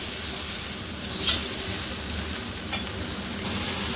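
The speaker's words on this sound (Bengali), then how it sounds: "আমড়াটাকে খুব ভালোভাবে নাড়াচাড়া করে আমি একটু হালকা করে ভাজবো" Hog plums (amra) fry in a pan with a steady, close sizzle while a utensil stirs them, adding a couple of brief scraping clicks against the pan.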